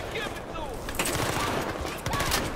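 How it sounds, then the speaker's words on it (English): Light machine gun fire in Battlefield 4, with bursts of gunshots mixed through busy battle noise and someone talking over it, shots louder around the middle and end. "Oh, so you have a light machine gun."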